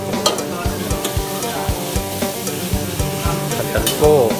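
Jungko fattened beef stir-fried in a wok: a metal spatula scrapes and clanks against the pan in a steady, quick rhythm over continuous loud sizzling, close up and with no talk.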